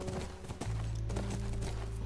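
Hooves of a horse in The Last of Us clop irregularly over a steady low game hum with a sustained tonal drone, moderately loud and close.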